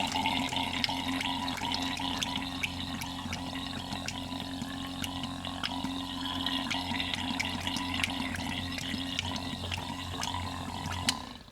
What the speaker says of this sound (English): Now you'll want to run all 5 gallons of water through the pump